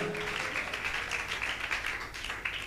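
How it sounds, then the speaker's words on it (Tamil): A church congregation at a Tamil Christian service in Chennai claps together in thanks, a dense, steady patter of many hands that runs unbroken throughout at a moderate distance. "கைத்தட்டி ஏசப்பாவுக்கு நன்றி செலுத்துங்க"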